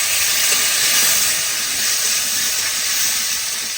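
Mango pieces dropped into hot oil tempered with black mustard seeds and two dried red chillies, giving a loud, continuous close sizzle with no talk.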